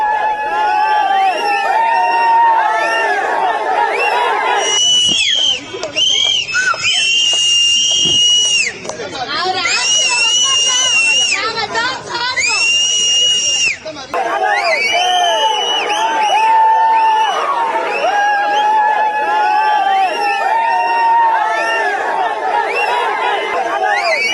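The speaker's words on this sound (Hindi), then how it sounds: "सीटी बजाकर विजय के सीएम बनने का यह जश्न मनाया जा रहा है" A dense crowd of supporters in Chennai celebrates a new chief minister, with shrill whistles blown repeatedly over loud, continuous cheering and chatter, close and sustained throughout.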